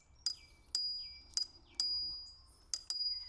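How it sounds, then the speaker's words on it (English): The finger bell on a Segway Max G3 electric scooter gives six quick, thin metallic dings, close and fairly faint, each decaying fast, spaced irregularly. "pretty pathetic finger bell"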